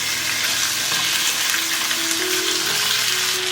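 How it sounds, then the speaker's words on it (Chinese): Chicken wings pan-frying in a little oil over medium heat, a steady close crackling sizzle that fills the whole moment with no talk over it. "然后朝中火煎"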